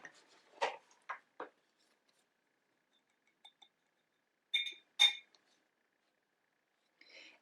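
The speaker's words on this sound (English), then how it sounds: "rinse this brush a little bit." A paintbrush is rinsed in a water jar during acrylic painting, giving a few sharp glassy clinks and taps in scattered bursts with quiet gaps between, close and fairly soft; no voices.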